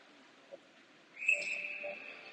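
A single referee whistle blast cuts through faintly at a distance during a hockey game against Honeybaked, a short sustained shrill tone over quiet arena ambience.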